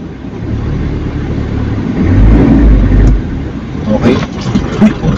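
A car engine pulling away in first gear while turning slowly, a loud close rumble that swells midway then eases, with some knocks near the end.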